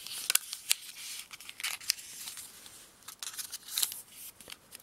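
Soft crisp crinkles and swishes of paper being folded and creased for an origami model, close and quiet, in irregular short bursts with no talking.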